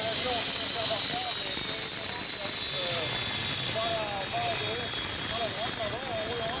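MiG-21 jet fighter flying at a 1993 air show at a French air base, a steady, continuous engine roar with a high whine throughout, while an announcer talks over it.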